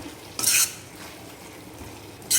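Vegetables for tikka masala are stirred in a pan, with two short scraping bursts of a spoon against the metal and quiet gaps between them.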